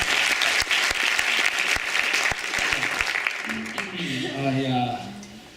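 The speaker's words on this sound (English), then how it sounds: "Clap it up for the other acts" A comedy club audience gives a lively round of applause for the other acts, sharp close claps standing out over the crowd, then tapering as a voice starts talking over the last seconds.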